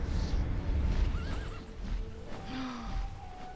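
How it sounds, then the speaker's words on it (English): A horse whinnies over a steady background hum in the game TERA, alongside faint hoofbeats and other soft tonal game sounds. "I heard a horse"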